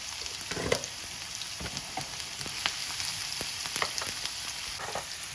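Sliced onion and curry leaves frying in hot oil for an egg biryani, a steady, soft sizzle with occasional louder crackles, with no voices.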